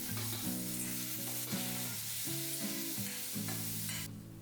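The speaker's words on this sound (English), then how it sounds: "Then chopped cauliflower and saute for 30 seconds" Chopped cauliflower sautéing in hot oil with cumin seeds and crushed ginger garlic, a steady bright sizzle with repeated stirring scrapes in a pan, close and continuous with no talking, while a soft music bed plays underneath.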